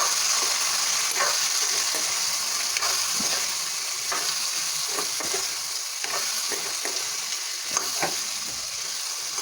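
Vegetables, potatoes among them, frying in a pan of oil while garam masala and Kashmiri red chilli powder are stirred in: steady close sizzle with repeated scraping stir strokes, no talk.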